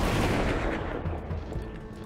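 Rifle gunfire in the zombie survival video game Dead Age 2: a dense, loud blast of shots with a rolling tail that fades slightly across two seconds, with no talk.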